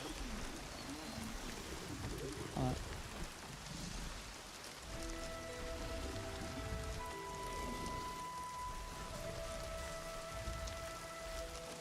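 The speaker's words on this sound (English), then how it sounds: "The clips and pops of raindrops are so nice to fall asleep to." Rain in a video game: steady rain hisses across the whole stretch with scattered raindrop pops and patters, and a soft tonal chime enters in the second half.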